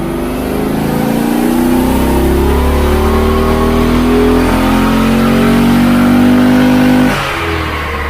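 A Hemi car engine revs during a dyno power run, rising steadily in pitch as it pulls hard and loud for about seven seconds, then drops off sharply.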